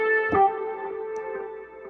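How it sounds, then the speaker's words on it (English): A Force Lead synth preset plays solo on an MPC, one sustained buzzy, effected lead note with a sharp attack that holds steadily and fades slightly, with no voice. "So here's what Force Lead sounds by itself."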